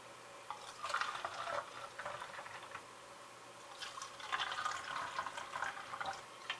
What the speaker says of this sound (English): I'm going to be pouring this into our cups over here. So I'm just going to pour some into the cups.